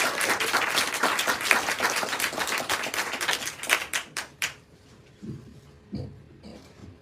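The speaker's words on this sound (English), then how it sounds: "And a round of applause, everybody." Audience at a live panel discussion breaks into dense, steady applause to welcome the panelists, then it thins after about four seconds into a few scattered claps and taps.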